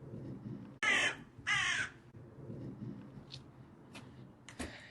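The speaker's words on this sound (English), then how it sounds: "Can you hear that? The crow's going over." Crow flying overhead, calling in two loud, harsh caws early on, followed by fainter calls farther off against quiet outdoor background ambience in winter.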